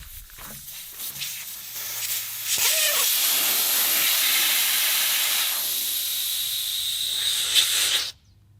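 Air hisses loudly and steadily out of a van tire being let down for desert driving, a continuous close rushing jet for several seconds that cuts off abruptly, with a few faint clicks before it starts.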